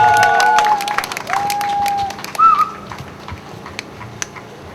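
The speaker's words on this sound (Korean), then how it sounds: "박수 부탁드리겠습니다" A crowd at an outdoor torchlight protest rally applauds, with shrill whistles cutting through at first, then the clapping thins and fades away within a few seconds.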